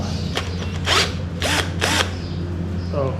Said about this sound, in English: It's got a little drill thing here.